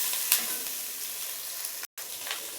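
Ingredients for a pennywort leaf mash sizzle and fry in a pan, a soft, steady crackle with a brief stir near the start and a momentary break near the end.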